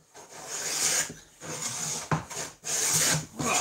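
A hand plane shaves a rough wooden pallet board in four or five rasping strokes, each a close, scratchy swish separated by short pauses, with a light knock between strokes.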